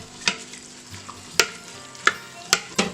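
A spoon stirs basil leaves into tomato soup in a pot, giving a few sharp knocks and scrapes against the pot over a soft steady hiss, close and with no talking.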